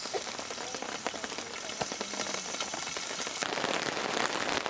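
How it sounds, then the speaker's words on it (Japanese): Rain falls steadily at a family campsite at Mito Fureai no Sato, with a dense, continuous patter of drops on surfaces close by, even and fairly loud throughout, and occasional sharper individual drips. "いやー、雨止まない。"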